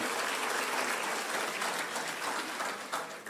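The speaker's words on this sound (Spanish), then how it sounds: "Dale un fuerte aplauso al Cristo maravilloso." Church congregation applauding steadily, dense, loud clapping filling the space without pause and with no voices over it.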